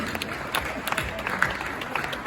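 An audience claps at an MR party congress in Brussels, a steady patter of applause from a crowd in a hall while someone speaks over it on a microphone.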